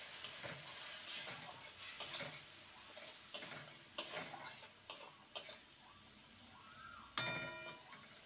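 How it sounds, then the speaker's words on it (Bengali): Spice masala being stirred and sautéed with a splash of water in a pan for a spiced pointed-gourd fry: soft scraping stirs and intermittent utensil taps over a faint low sizzle, fairly quiet, no voices. "জল দিয়ে মশলাটাকে ভালো করে কষিয়ে নেব"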